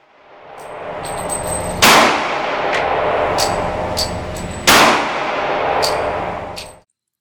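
Subcompact Glock G36 and G27 pistols firing .45 ACP and .40 S&W rounds at a shooting range: two loud, sharp shots a few seconds apart, each with a ringing metallic tail.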